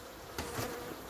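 Honeybees buzzing close by at a hive, a steady insect hum with a slightly louder swell partway through, no voices.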